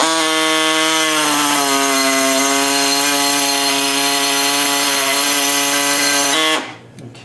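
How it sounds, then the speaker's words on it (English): A small air-powered hacksaw cuts through metal for a homemade water-cooled Briggs engine, making a loud, steady, buzzing rasp for about six seconds before it stops abruptly. "we got a little air hacksaw out here. This little thing comes in handy for this kind of stuff"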